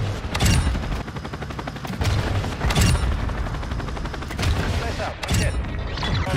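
Rapid bursts of pistol fire in Call of Duty ring out loud and close in several clusters, sharp cracks over a constant roar of game effects, with a helicopter-like drone underneath.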